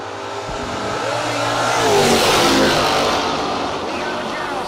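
A Chevrolet Camaro drag race car at a no-box drag race howls loudly at close range, its revs climbing to a peak and holding, while a commentator talks over the engine.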